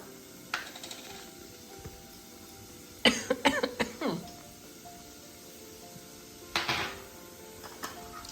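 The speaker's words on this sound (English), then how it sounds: "I'm always going to cough if there's peppers involved." A few sharp, close coughs, set off by chile peppers while cooking, burst out in a quick cluster mid-clip, with another short cough-like burst later and quiet background noise between.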